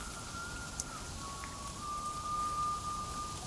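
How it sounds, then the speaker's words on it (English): Steady rain falling at night in a cave-filled outdoor game world, a constant soft hiss with a faint thin tone running beneath it and no talking. "If only it wasn't raining."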